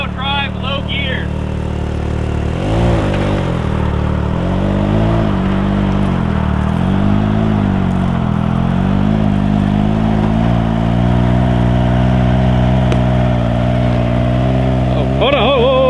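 Cummins diesel truck engine revving in 4-wheel drive low gear, a steady loud drone that rises and falls as the throttle is worked off-road, with people talking over it throughout.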